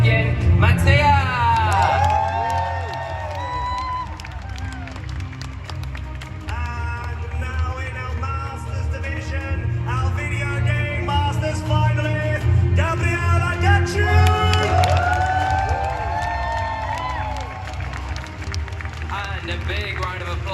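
Crowd cheering and applause for the video game senior champion at the Pokemon Europe International Championship, a dense sustained roar running under loud, continuous announcer speech for the whole stretch.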